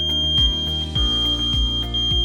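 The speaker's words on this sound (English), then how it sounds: "When one alarm is triggered, all alarms will sound." An X-Sense SD19-W wireless interlinked smoke alarm sounds a steady, piercing high-pitched tone, loud and continuous, with a deeper pulsing layer repeating about every half second underneath.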